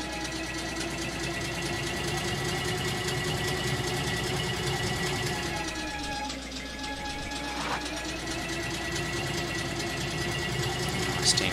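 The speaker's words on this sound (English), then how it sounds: "Steam tractor there." Steam tractor in the game Eco, a steady mechanical engine drone running continuously at moderate loudness with a slight dip in pitch midway and a faint squeak near the end.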